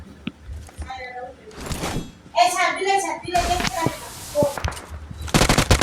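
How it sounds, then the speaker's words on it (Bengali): Gunfire in the PUBG video game, including distant shots, crackles through as sharp bursts and a rapid volley near the end, mixed with game effects while a young voice talks over much of it. "আওয়া মাত্র দেখলাম কে যেন অনেক দূর থেকে ফায়ার দিছে"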